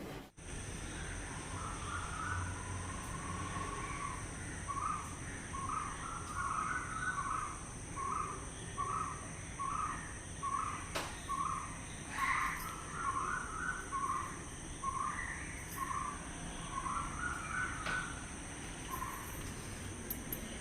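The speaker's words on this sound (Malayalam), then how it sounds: "ആ സമയത്തുള്ള കിളികളുടെ ശബ്ദങ്ങളൊക്കെ നന്നായിട്ട് കുറച്ച് നേരം ഞാൻ ഇവിടെ നിന്നിട്ട് ആസ്വദിച്ച്" Birds call in the early morning outside a Kerala home at about 5:30, with a crow cawing in a long rhythmic series of repeated caws over a faint, steady background of insects and distant ambience.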